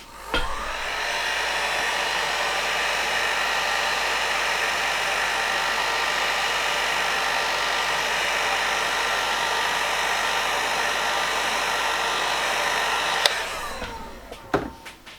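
A hair dryer blows steadily and loudly on freshly airbrushed red paint, a continuous even whoosh for about thirteen seconds before clicking off, followed by a few light knocks and handling sounds.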